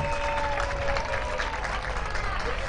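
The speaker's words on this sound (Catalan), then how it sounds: "Un aplaudiment aquí a les Golden Cheers." Crowd applause and cheering for the Golden Cheers cheerleaders at an American football game, a continuous dense roar of clapping from the stands with a faint steady tone and chatter underneath.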